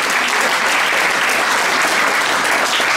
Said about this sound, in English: So a round of applause for this young interfaith leader